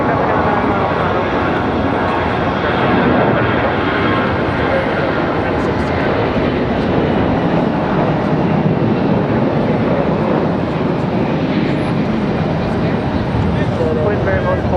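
Airliner taking off from runway 23 left at Raleigh-Durham International, a loud, sustained jet engine roar throughout, with a tower radio voice talking over it.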